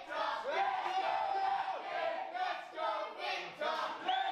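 Wrestling crowd at an academy championship match chanting and cheering in rhythmic waves, fairly loud and continuous with no talk over it.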